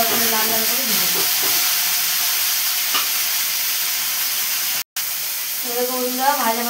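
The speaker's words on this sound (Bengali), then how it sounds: "চলো কপিটা আলুটা ভালো করে লাল লাল করে ভেজে দিই" Cauliflower and potato pieces frying in a pan, a steady close sizzle and hiss running throughout, with a voice speaking briefly at the start and again near the end.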